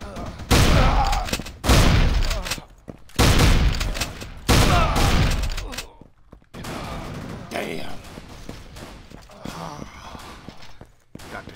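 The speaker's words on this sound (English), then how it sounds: "Shotgun." Shotgun blasts in the Assault Cube first-person shooter, several loud booming bursts in the first six seconds, some rapid and overlapping, then quieter game noise and scattered lighter effects.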